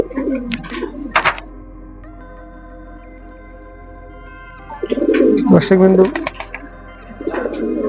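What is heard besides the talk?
pigeons cooing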